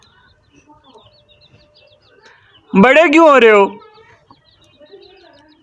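A farmyard hen lets out a single loud, drawn-out clucking squawk lasting about a second, standing out clearly between stretches of quiet talk and faint background chatter.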